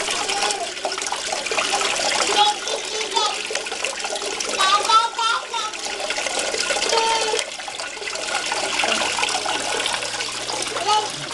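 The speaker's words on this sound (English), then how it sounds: "It's starting to drain out." Water draining and gurgling out of an aquaponics grow bed through a siphon, a steady broadband splashing rush lasting throughout, with faint voices in the background.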